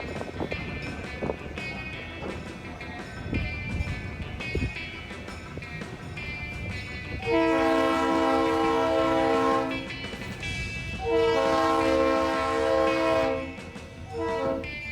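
A Santa Cruz, Big Trees & Pacific Railway train departs along Beach Street by the Santa Cruz Beach Boardwalk, with mechanical clanks and rumble followed by two long, loud, tonal horn blasts close by.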